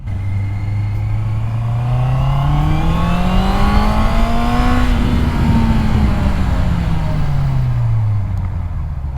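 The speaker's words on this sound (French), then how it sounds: "ces petites accélérations avec un 4 cylindres, c'est tellement parfait" Honda CB650R E-Clutch four-cylinder motorcycle accelerating from onboard, engine pitch rising smoothly through a rev then falling away, loud and close with wind rush, no talk.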